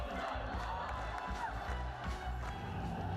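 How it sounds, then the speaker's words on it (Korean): A large crowd at a big outdoor concert with laser lighting roars and cheers continuously, a dense wall of voices with scattered clapping, steady and loud throughout. "객석에서는 함성이 터져 나왔다"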